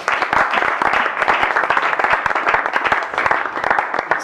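An audience applauds together for a couple at a marriage-advice talk, dense rapid clapping filling the room continuously, close and loud, with no talking over it.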